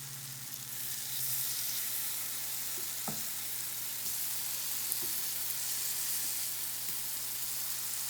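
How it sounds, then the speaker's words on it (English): Sliced bananas frying in a little butter with cinnamon in a pan give a steady, even sizzle that holds for several seconds, with a few faint clicks and scrapes and no voices. "You're just frying them in a little bit of butter, hitting them with a little cinnamon"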